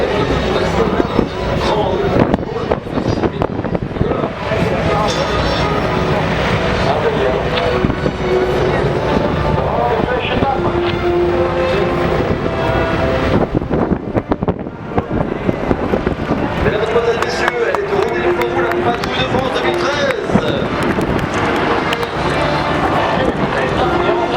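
Jet aircraft in diamond formation at the Paris Air Show roar continuously in a loud, wind-buffeted rumble that swells and fades slightly, with a commentator talking over it throughout.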